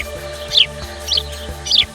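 Three bright, high chirps from cartoon jungle birds, evenly spaced about half a second apart, ring out over a steady low musical drone.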